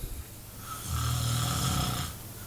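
One drawn-out snore from a person sleeping at night, close and fairly soft, rising into a rough buzzing rattle and then fading away, with no talk over it.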